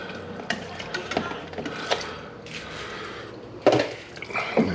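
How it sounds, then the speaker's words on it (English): Catfish stew stirred in a pot, Southern style: wet scraping and clinking of the spoon against the pot in irregular strokes, with a soft bubbling sizzle and a couple of louder knocks near the end. "You gotta stir that fish up."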